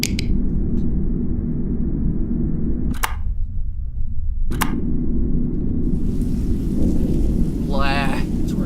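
Rain and rolling thunder in the game Signal Simulator, a heavy steady rain wash with low rumbling, broken by abrupt dropouts and sharp clicks, with a brief voice-like chirp near the end.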